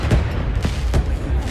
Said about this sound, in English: Ooh, fireworks.